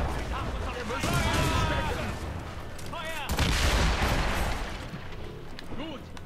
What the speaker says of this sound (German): Einmal mörsern, einmal schießen, ballern, einmal schießen.